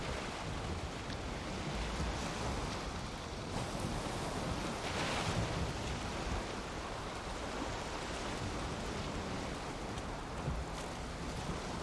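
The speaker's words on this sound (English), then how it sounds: "It's a little bit of wind." Wind and ocean waves heard while sailing a boat in the video game Valheim, a steady broad wash of surf and gusting wind that stays loud and even throughout with no talking.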